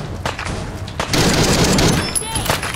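Close, loud bursts of gunfire in Fallout 4, rapid shots merging into a sustained volley in the middle, with a voice speaking briefly around the shooting.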